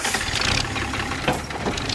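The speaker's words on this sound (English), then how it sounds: "I'm driving a tractor, baby!" Steady low tractor engine rumble with a rough, chugging throb, close and continuous, no voices, in Sri Lanka.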